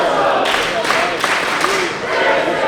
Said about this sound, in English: And the crowd is completely into this match.